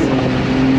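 Porsche 911 Turbo or McLaren 720S sports car on throttle, a loud, close engine roar with a steady tone under full acceleration through the whole short burst.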